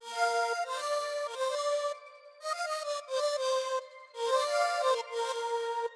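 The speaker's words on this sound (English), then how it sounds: "Kind of sounds like a flute sound with like some airy reverb or something like that." Soft, breathy flute-like synth lead playing short melodic phrases with gentle pauses, washed in airy reverb, alone and moderately quiet.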